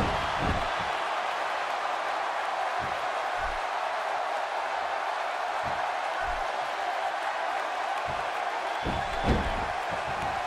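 Crowd noise at a professional wrestling match between Bryan Danielson and Lance Storm, a steady broad roar of cheering fans that fills the whole stretch, with occasional thuds and slams from the ring cutting through.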